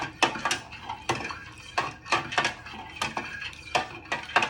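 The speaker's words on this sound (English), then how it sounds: "So you're giving it a good stir." Spoon scraping and clinking in a pot of stock for pulled pork, in irregular bursts of metallic knocks and swishes, close and fairly loud with no talk.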